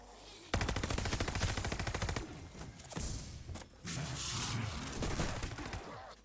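Death Machine minigun in Call of Duty Vanguard Zombies on the Terra Maledicta map, a loud, rapid continuous burst of gunfire with brief pauses, then further rattling shots and rumble.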